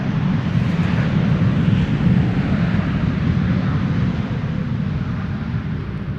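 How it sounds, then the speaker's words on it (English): An American Airlines airliner arriving at Amsterdam Schiphol on a cold, showery winter day, a steady broad jet roar with strong low rumble that holds loud throughout and eases slightly toward the end, with no talking. "American Airlines Flight 204 arriving from Philadelphia"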